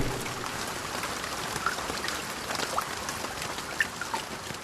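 Steady southwest monsoon rain in Kerala, India, pours down with a constant hiss, scattered drips landing close by over the even wash.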